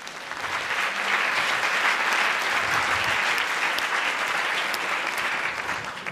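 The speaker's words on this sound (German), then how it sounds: "Herzlich willkommen und einen großen Applaus." Enthusiastic applause from a crowd at a Jugend hackt Berlin 2018 youth hackathon presentation, a thick continuous wash of clapping held at steady loudness for several seconds before easing slightly.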